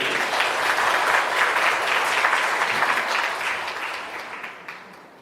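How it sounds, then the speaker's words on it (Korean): An audience at a university admissions briefing claps to welcome a lecturer, a dense, sustained round of applause that stays loud for several seconds before gradually thinning and fading toward the end. "큰 박수로 보내드립니다."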